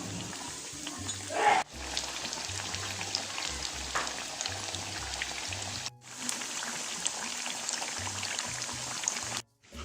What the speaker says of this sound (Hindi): इनको हल्की आंच पर फ्राई कर लें।